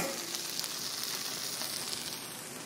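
Breakfast skillet ingredients fry and brown in a hot skillet, giving a steady, close, bright sizzle with faint crackles throughout and no talking.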